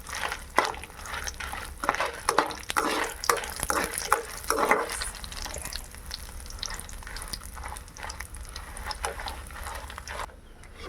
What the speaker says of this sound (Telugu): కొంచెం హీట్ ఎక్కాక ఎండుమిర్చి చేసుకొని ఫ్రై చేసుకోవాలి.